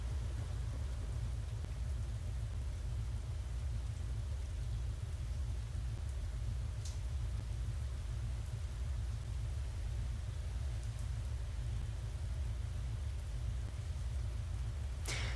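Steady rain and low rumbling of a thunderstorm in the Space Engineers survival game, a continuous dense wash of noise with a couple of faint crackles, no voices.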